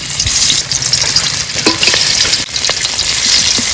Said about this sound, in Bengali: এবার আমিও মাছগুলো ভেজে নেব।